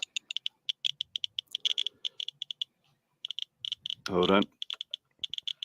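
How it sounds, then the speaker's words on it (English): A Geiger counter held against an ionic healing wand pen gives rapid, irregular clicking in dense bursts, with a short pause and a brief spoken remark partway through. "Let's bring the Geiger counter out,"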